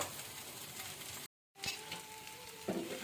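Taro root (colocasia) pieces sizzle steadily while frying in turmeric, salt and ginger paste. The hiss is continuous, cuts out briefly, then resumes.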